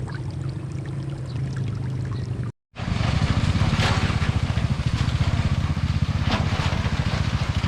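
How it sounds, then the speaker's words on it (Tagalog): A tractor passing beside a flooded kangkong field, its low rumbling engine steady under rushing water, cut by a brief dropout before returning louder and closer. "Ang traktor po yan o oh, dumaan."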